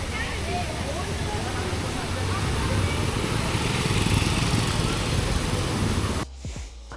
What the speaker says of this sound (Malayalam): ഇതെവിടുന്ന ഈ മിനി വെള്ളച്ചാട്ടം?